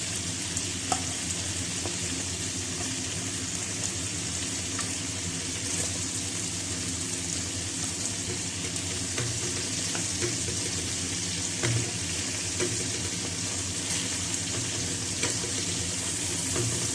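Spice-stuffed brinjal frying in hot oil, a steady, dense sizzle that holds at even volume throughout, with occasional faint clicks and no talk.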